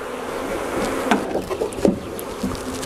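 Honeybees shaken out of a nucleus hive into a full hive fill the air with dense, close buzzing, broken by a few soft knocks and thumps.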